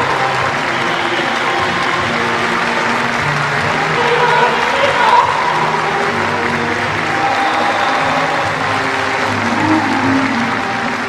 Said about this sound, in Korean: 장내에는 격정의 파도가 세차게 일어번지고 열광적인 박수가 터져올랐습니다